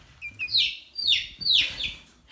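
A pet bird, a small parrot-like bird, chirps in a run of bright, close tweets and short calls over about two seconds, loud and clear with a low rumble underneath.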